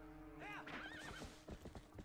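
A horse whinnies loudly in The Legend of Zelda: Twilight Princess HD, a wavering, rising-and-falling call up close, followed by the muffled clip-clop of hooves as it settles.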